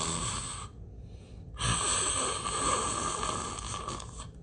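A voice imitates a person snoring loudly, delivering rasping snore sounds in two bursts separated by a short gap, close and alone with no other talk.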